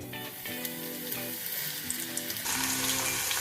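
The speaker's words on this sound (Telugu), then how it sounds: "ఆరిపోయిన మూంగ్ దాల్ని కొద్ది కొద్దిగా ఈ స్ట్రైనర్లోకి వేసుకొని ఫ్రై చేసుకున్నాము" Moong dal deep-frying in hot oil inside a strainer, a steady broadband sizzle that swells louder partway through, close and continuous with faint background music.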